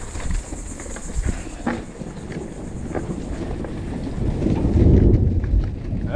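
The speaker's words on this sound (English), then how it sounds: "angry thunder" Thunder rumbling outdoors during a mountain bike ride on a creek trail, a low continuous roll that swells louder toward the end, mixed with rain patter and wind buffeting the microphone.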